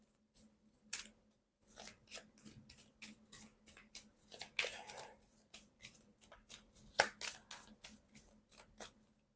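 Oracle cards are shuffled by hand in a quiet room, a close series of quick papery riffles and flicks in irregular bursts with short pauses between, no talking.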